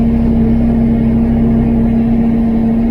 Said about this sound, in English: I can drop this into a float position and basically just start driving